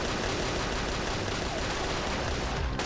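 Rapid gunfire in the M:PN video game rattles nonstop as shots ricochet off an enemy, a dense, loud, continuous barrage that cuts off abruptly near the end.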